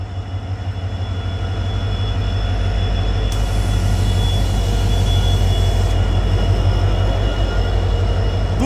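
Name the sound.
NJP–New Bongaigaon Intercity Express train pulled by two engines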